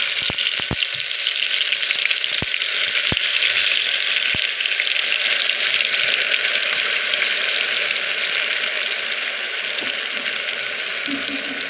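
Cinnamon sticks and cloves frying in hot oil for a mutton curry, a loud, constant sizzling hiss broken by a few sharp clicks from a utensil near the start.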